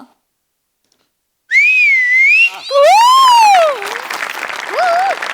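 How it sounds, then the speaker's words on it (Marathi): A woman whistles a lilting, sliding tune on a comedy show stage. After a second and a half of silence, clear, loud whistled phrases rise and fall, then audience applause and crowd noise swell beneath the final notes. "बाई खरी शिट्टी वाजवते"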